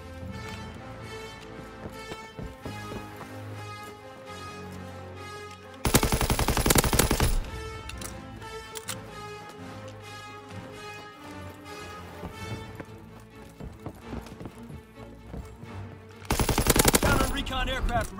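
Machine gun fire in a video game, two short loud bursts of rapid shots standing out over continuous game music and effects.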